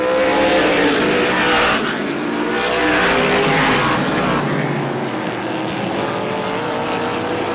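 Race cars at Star Speedway in an SBM 125 heat roar steadily and loudly past on the track, a dense continuous engine drone that swells and fades slightly, with no talking.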